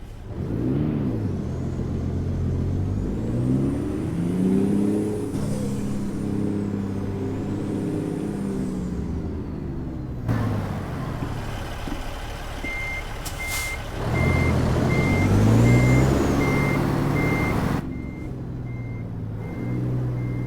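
Heavy truck in American Truck Simulator reversing, its steady backup beeps repeating while the diesel engine rumbles and revs underneath, with a hiss of air brakes partway through.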